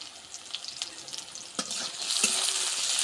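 Sliced onions hit a hot oiled pan for a bitter gourd fry in a home kitchen, with a few light clinks and then a swelling, steady sizzle that grows louder and fills the second half.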